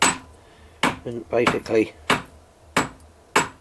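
A hammer strikes a Gtech ebike battery in a garage workshop, sharp metallic blows in a loose series of about seven, with a few words of talk between the early strikes.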